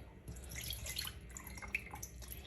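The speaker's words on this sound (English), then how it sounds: "just drain the water off." Water draining off soaked kidney beans, a steady faint trickle and patter of dripping liquid with small splashes, continuous and close for a couple of seconds.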